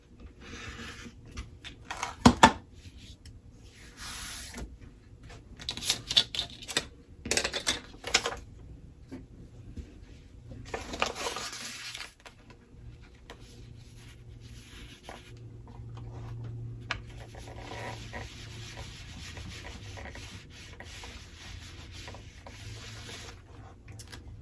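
Scissors or a rotary cutter trimming quilt fabric for a log cabin block, heard as soft scraping and rubbing strokes in irregular bursts, close and fairly quiet, with no talking.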